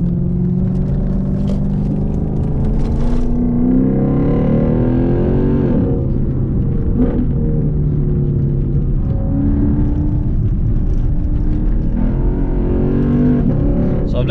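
A straight-piped Lexus IS-F with its 420 hp 5.0-litre naturally aspirated 2UR-GSE V8 drones steadily while driven, rising and falling through revs with a constant loud, rumbling exhaust tone and no talk.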